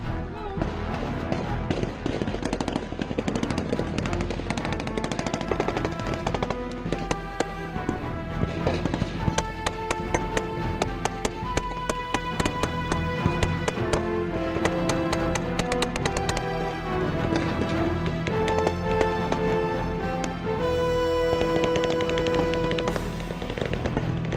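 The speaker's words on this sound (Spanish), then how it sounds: "algunos agentes estaban escudados detrás de sus vehículos disparando, mientras el sonido constante de las detonaciones retumbaba de forma peligrosa" Gunmen and the Mexican army trade gunfire in a shootout. Steady crackling pops and detonations repeat throughout, partly under loud tonal music, with some voices present.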